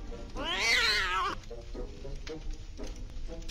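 A wild cat in the video game Scary Stranger 3D gives one drawn-out, wavering yowl near the start, followed by quieter scattered background game sounds.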